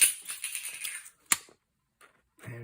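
Scissors snip through a thin aluminium drink can to make shim material for a flintlock doglock repair, off to the side: a few quiet crisp metallic cuts and clicks with a sharp snap, then silence.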